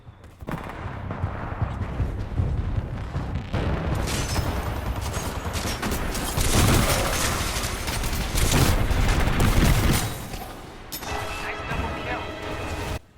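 Sustained Spitfire light machine gun fire in Titanfall 2, a dense, loud stream of rapid shots with crashes and explosions in a hectic firefight, easing briefly near the end.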